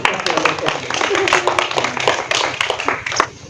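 Sharp hand claps land in quick, uneven bursts at an Awadhi comedy skit about a village politician, close and fairly loud, with voices talking over them throughout.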